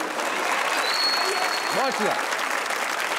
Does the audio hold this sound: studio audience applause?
yes